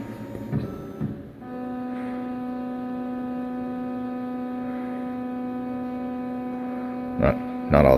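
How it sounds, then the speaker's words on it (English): A CNC machine with inductive homing switches runs its homing cycle, giving a steady electrical hum with a strong drone and a few clicks and thumps near the start and end. "Not all that terribly interesting to watch a machine home"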